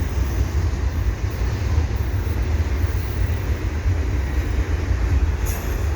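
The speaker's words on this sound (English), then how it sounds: "CN double stack, headed east." An eastbound CN double-stack intermodal freight train rolls past at dusk with a continuous loud rumble and wheel noise, steady throughout, and a faint high squeal of wheels on rail.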